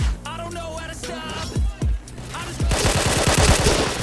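K2 EBR rifle fire in the shooter game Point Blank, starting with a few separate shots and then a rapid, loud burst of close gunfire. A voice talks over the early shots.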